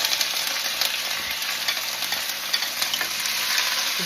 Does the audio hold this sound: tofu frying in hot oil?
yes